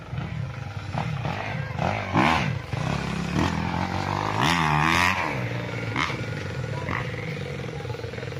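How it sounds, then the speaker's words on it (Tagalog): Motocross motorcycle engines rev and whine in the distance near a farm lot in Nagcarlan, Laguna, rising and falling in bursts over a steady background rumble, with no talking. "dinig na dinig dito ang andar ng mga motor mga kapraps"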